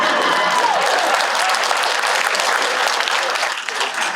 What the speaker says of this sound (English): I guess you can applause.